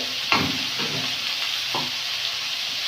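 Spices, tomato and potato sizzle and fry with rohu fish for a bitter-gourd fish curry in a village kitchen, with a steady hiss and a few soft stirring scrapes and clinks throughout.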